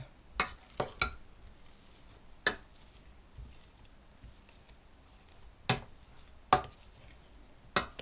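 Intermittent soft thuds and scrapes of a utensil mashing warm boiled potatoes in a pot, irregularly spaced over a quiet kitchen background.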